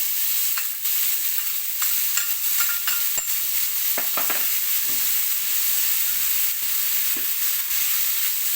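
Beans stir-fried with red curry paste in a hot pan give a loud continuous sizzle, with scattered scrapes and clinks of a spatula stirring close by and no talking.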